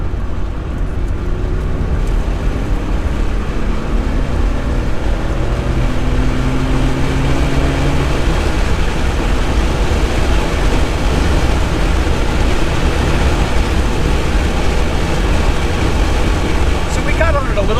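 A 1983 Porsche 911SC drives and accelerates on the road, giving a continuous, loud engine and road drone that rises slightly in pitch as it gets on the throttle, heard from close up.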